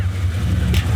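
Turbocharged 4.0L Intech AU Falcon drift car pulling away, its low steady engine drone close and constant for a second, with a brief hiss of air near the end.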